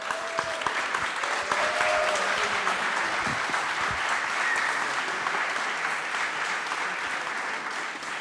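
An audience at a Paris demo day for part-time students' data projects breaks into sustained applause, a dense steady patter of many hands clapping at close range that carries on for several seconds before easing slightly.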